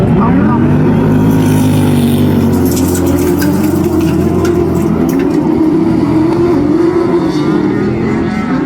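Several autograss race cars roar away at the start of a class 10 race at a national meeting, engines revving and rising together loudly, under continuous commentary.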